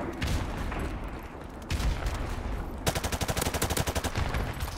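Gunfire in Call of Duty Modern Warfare Remastered on PS4: scattered loud shots in the first seconds, then a rapid rhythmic automatic burst near the end, with no talk over it.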